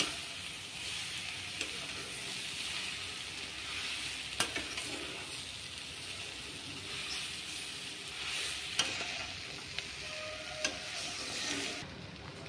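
Spiced potato samosa filling is stirred in a pan, a steady close sizzle broken by scraping spoon strokes and a few sharper knocks, with no talking.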